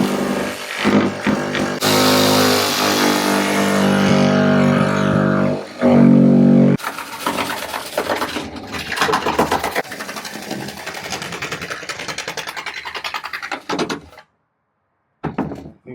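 Power saw cutting through a fiberglass truck camper roof, with loud, close bursts of buzzing motor and grinding blade noise that stop and start, rougher rattling cutting in the middle, then a brief silence and a final short burst.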